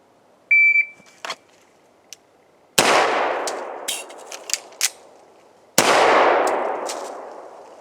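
Pistol shots crack out during a timed shooting drill, two loud sharp reports a few seconds apart, each with a long ringing tail, after a short electronic start beep and some small clicks.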